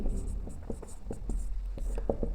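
A pen writes out a geometry proof in a maths lesson, its short scratchy strokes arriving close and steady in an uneven rhythm over a low background hum.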